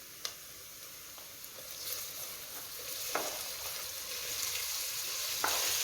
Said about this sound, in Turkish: Kuşbaşı etlerle birlikte tekrar kavuracağım onları